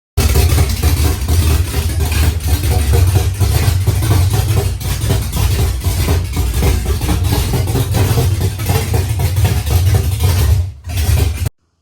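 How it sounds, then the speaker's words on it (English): A 1966 Ford Mustang with a 360 engine runs very loud and close, a deep, rough, rumbling exhaust that holds steady for about ten seconds before cutting off abruptly. "Okay, so the car is really, really loud."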